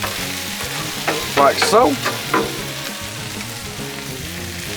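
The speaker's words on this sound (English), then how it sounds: "Add that shrimp on there" Shrimp sizzle loudly on a hot Blackstone griddle as they go down for jambalaya, a close, steady crackling hiss with a few stirring scrapes, while someone talks briefly over it.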